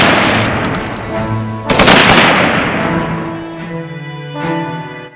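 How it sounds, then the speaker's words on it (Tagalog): Rapid gunfire volleys from an execution by firing squad of 57 Katipuneros, loud bursts of machine-gun-like shots with sharp booming cracks and echoing tails. "binaril ang 57 katipunerong nahuli sa Polvorin"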